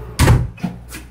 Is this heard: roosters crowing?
no